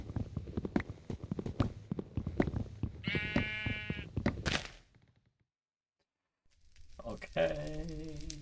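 A sheep bleats in the SevTech Ages Minecraft modpack, one wavering, nasal call over busy game noise and footsteps, then a brief silence before another bleat-like call near the end.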